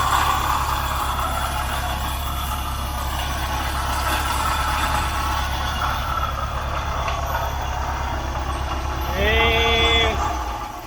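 Engine of a junkyard Ford F-100 pickup running slightly flooded and rich, a steady close low rumble with a faint rising tone near the end.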